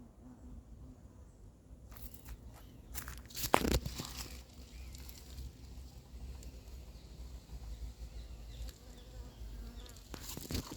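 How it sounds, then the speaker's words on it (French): A hornet buzzes around beehives at an apiary outdoors, a faint, steady insect drone with a louder, close pass partway through and soft rustling in the background. "un frelon ici qui tourne autour des ruches"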